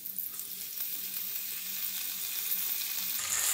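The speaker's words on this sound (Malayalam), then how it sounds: "ഇനി നമുക്കിതിലോട്ട് പൊടിയായിട്ട് അരിഞ്ഞു വെച്ചിരിക്കുന്ന വെളുത്തുള്ളി ചേർത്ത് കൊടുക്കാം" Finely chopped garlic hisses in hot oil alongside ginger, a dense, even sizzle that holds steady and swells slightly near the end.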